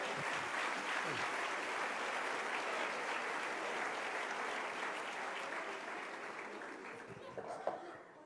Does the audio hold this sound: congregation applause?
yes